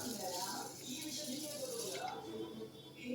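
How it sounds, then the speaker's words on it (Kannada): Water poured from close by onto washed peanuts in a bowl for soaking, a steady splashing, trickling pour across the whole moment. "ಇದಕ್ಕೆ ನೀರು ಹಾಕೋಣ."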